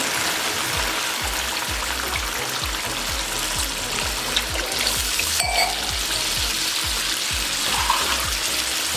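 Water pours steadily into a cooking pot of rice for pulao with a continuous splashing, bubbling rush, close by and fairly loud, with a few faint clinks.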